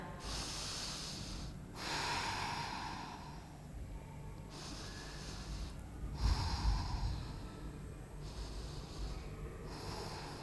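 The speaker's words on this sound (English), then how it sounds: "3 deep breaths here." Deep breathing during a Pilates full-body stretch, with slow, close, airy inhales and exhales rising and falling about three times, no talking.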